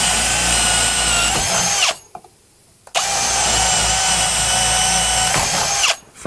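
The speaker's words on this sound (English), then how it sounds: "We get our drill about 2 millimetres smaller than the actual hole." A power drill with a 12mm bit bores into a steel flitch plate, giving a loud, steady high whine in two long runs separated by a short pause, with a brief stop near the end.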